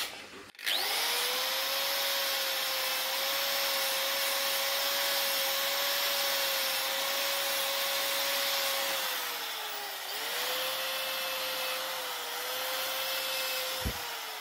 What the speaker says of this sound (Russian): Я в дреле снял бор и поставил щетку.